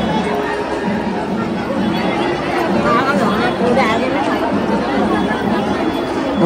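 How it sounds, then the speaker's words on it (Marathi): A big throng of pilgrims at the Tuljapur temple fills the air with continuous overlapping chatter and babble, loud and close, with no pauses. "हे बघा गर्दी किती"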